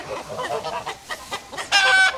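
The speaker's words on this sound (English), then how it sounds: "Okay, got two roosters fighting." Two roosters fighting, clucking and squawking in a jumble of short bursts, ending in a louder, harsher flurry of agitated calls close by.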